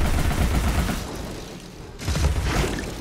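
Gunfire in the Alice: Madness Returns video game right after a weapon switch, two dense bursts of rapid shots close by, separated by a short lull.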